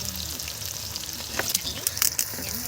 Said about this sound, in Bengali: এখন পেঁয়াজ দিয়ে দিচ্ছি